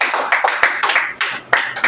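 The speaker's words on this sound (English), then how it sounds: "Everyone rise up and clap for our military, Nigerian military." A standing audience claps for the Nigerian military, a quick, dense patter of many hands clapping close and loud, with sharp slaps standing out above the steady rhythm.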